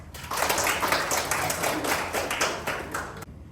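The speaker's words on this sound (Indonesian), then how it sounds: "Terima kasih, kita berikan aplaus." Audience applause at a lecturer certification teaching session, a steady patter of many hands clapping at moderate volume for about three seconds, then stopping abruptly.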